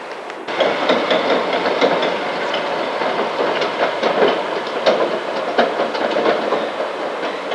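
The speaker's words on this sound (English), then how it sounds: "I can hear the Dotto Train." A Dotto tourist road train passes close by as a loud, continuous rumbling drone with rattling clatter throughout, steady and without speech.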